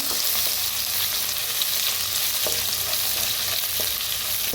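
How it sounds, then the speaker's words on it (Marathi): Crushed garlic and green chili roast in hot oil with cumin and asafoetida, giving a dense, even sizzle with occasional stirring scrapes, close and steady. "लसूण मिरची चेचून घेतलेली आता जर छान असं भाजून घेऊया"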